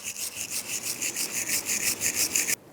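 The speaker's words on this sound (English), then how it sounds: "You can take a wire brush, just clean up some of the rust buildup." A wire brush scrubbing rust off a Nissan Xterra rear brake caliper bracket, making a quick, even rhythm of raspy back-and-forth strokes that stops abruptly.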